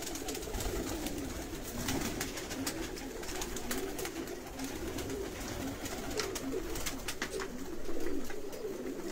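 A flock of pigeons kept for sale in Sialkot coos continuously in a dense, low murmur, with scattered sharp clicks and flutters over the steady background.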